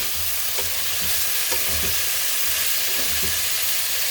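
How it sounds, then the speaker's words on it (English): Bitter melon sizzles and crackles in a hot pan with a constant hiss while stir-frying, a utensil scraping and stirring in irregular strokes. "So I am just going to start stir frying here."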